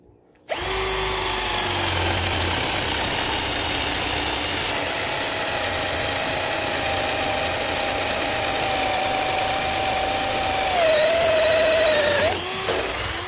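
Dongcheng DCJZ1202i cordless drill boring with a 16 mm spade bit, starting abruptly and running as a loud steady high whine for about twelve seconds, pitch dipping briefly under load near the end before stopping.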